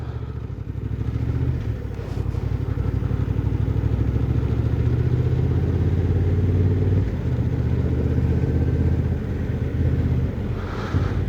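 A Honda Transalp 750 motorcycle engine runs loud and steady in city traffic, with a sustained low drone and shifts in engine pitch as the rider downshifts approaching an intersection.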